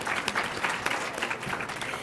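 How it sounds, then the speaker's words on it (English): An audience at the 2019 Michigan ACE Initiative Conference breaks into a round of applause, a dense, steady wash of many hands clapping with a faint murmur of voices. "Give me a round of applause if you've seen it."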